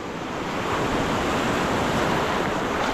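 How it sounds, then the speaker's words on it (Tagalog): Large ocean waves break and wash along a shore on the west coast of Puerto Princesa, a broad continuous roar of surf mixed with wind noise on the microphone, with no voices. "paibas na rin mga idol, kaya malalaki yung alon"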